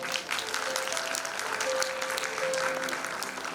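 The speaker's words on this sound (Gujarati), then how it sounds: "મંચસ્થ મહાનુભાવોને એક વખત જોરદાર તાળીઓથી વધાવીએ" An audience applauds steadily and loudly throughout, welcoming dignitaries on stage at a nursing institute event, with a faint tonal hum running under the clapping.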